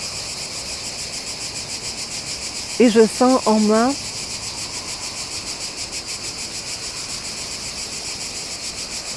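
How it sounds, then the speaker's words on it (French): Cicadas sing in a steady, pulsing drone throughout, loud and continuous, while someone speaks briefly in French over them partway through. "et les cigales chantent toujours."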